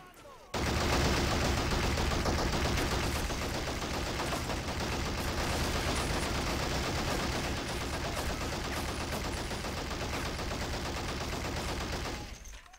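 Soldiers fire guns in the Men of War Assault Squad Fall of Liberty battle, a loud, continuous dense volley of rifle and machine-gun fire that runs steadily for about twelve seconds before cutting off.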